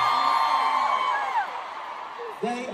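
A packed arena crowd at a Love On Tour concert in Chicago's United Center screams and whoops loudly for twins Julia and Ariana, high cheers rising and trailing off.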